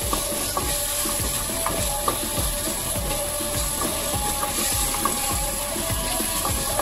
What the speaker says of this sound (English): keep stirring it continuously until it comes to boil.